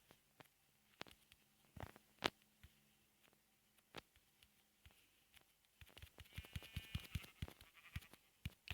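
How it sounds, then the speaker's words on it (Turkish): Sheep bleating in Minecraft, a few short game bleats mixed among clicks and tapping sounds, with denser activity toward the end. "Koyun."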